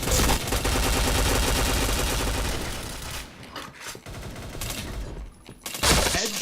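Heavy gunfire in the online shooter PointBlank, a loud dense stretch of rapid automatic fire that thins into scattered shots, then a final burst near the end.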